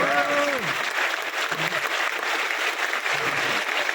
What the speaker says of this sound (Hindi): पेरेंट्स के लिए ताली बजाओ